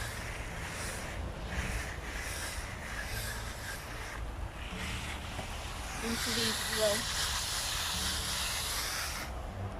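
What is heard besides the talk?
garden hose spraying water on seed trays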